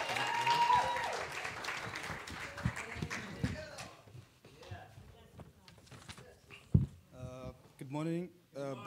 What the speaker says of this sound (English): Give Brother Gore and his family a great big hand clap.